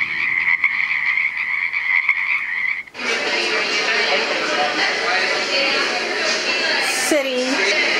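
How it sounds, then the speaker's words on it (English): Frog croaking from an AVANTEK white noise machine: a dense, loud, continuous chorus of frogs takes over from a preceding steady tone, with rapid repeated croaks layered together and one deeper call rising near the end. "Ooh, frogs."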